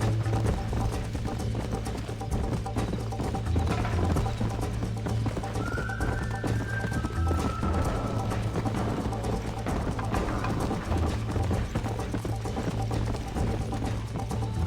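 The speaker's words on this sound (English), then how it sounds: "Come on, horsey, let's move." Horse hooves clip-clop steadily in Red Dead Redemption, a continuous mid-distance rhythm with a brief whinny partway through and no talk over it.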